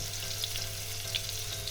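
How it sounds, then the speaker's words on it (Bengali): Thin-cut potatoes with salt and turmeric sizzle steadily in a hot pan of oil for bitter gourd (tela kochu) greens, with a continuous close frying hiss and a few sharper pops. "এবার আমি এটাকে একটু ভাজা করে নেবো"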